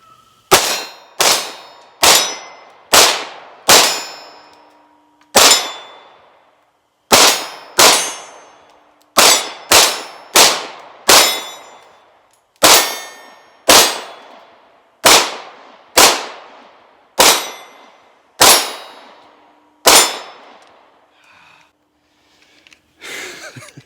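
Ruger 57 pistol firing a box of ammunition at steel targets, about twenty sharp, loud shots, each ringing with a metallic clang. They come in quick bursts with short pauses, and a faint fumbling sound follows at the end.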